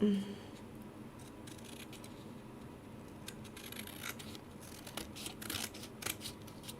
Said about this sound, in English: So take my scissors and trim that up.